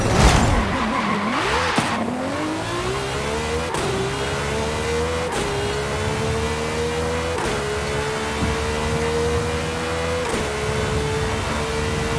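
A 1996 Ferrari F50 GT in Forza Horizon 5 revs hard from a burst of wheelspin, then holds a loud, steady high-pitched engine wail through repeated upshifts.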